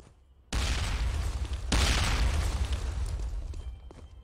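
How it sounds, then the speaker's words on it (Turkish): A grenade explodes in a video game with a sudden loud boom, and a dense rumbling blast lingers for several seconds, swelling again partway through before slowly fading. "Bomba atıyorum."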